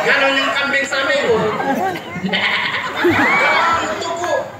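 A human voice imitates a goat's bleat, giving quavering nasal cries amid a lively crowd murmur, with the mimicked calls rising clearly above the background chatter.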